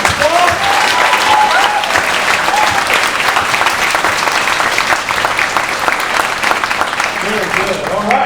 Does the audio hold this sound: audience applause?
yes